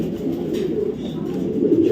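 A male racing pigeon coos near a female, a soft, low, continuous throaty burble close by with no talk over it.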